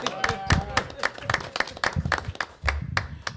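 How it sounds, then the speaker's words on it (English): Sparse, rhythmic hand claps ring out at a board meeting honoring retiring Chief Coyle, a modest group clapping in uneven bursts while voices talk over them throughout. "I think we can clap for him"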